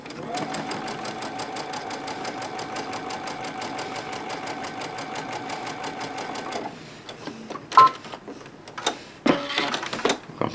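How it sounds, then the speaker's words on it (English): A sewing machine stitches down a seam on a sun rays quilt block in a fast, even mechanical rattle for several seconds, then stops, followed by scattered clicks and handling noises. "And we're going to sew down that seam."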